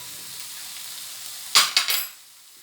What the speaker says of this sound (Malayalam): നല്ലതുപോലെ നമുക്ക് ഇളക്കാം